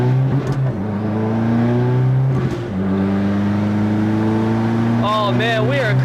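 A Subaru WRX running a restrictive valet map accelerates hard from close inside the cabin, engine droning and rising through gears with brief dips at shifts, while someone talks over it near the end.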